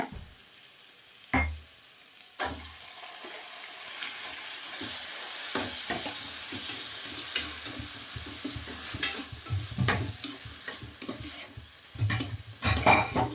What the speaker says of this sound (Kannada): ಚೆನ್ನಾಗಿ ಫ್ರೈ ಮಾಡ್ಕೋಬೇಕೀಗ